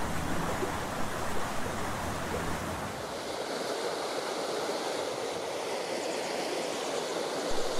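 A fast-flowing river current rushes over a stony riverbed in a continuous, even wash of broadband noise, with no voices over it.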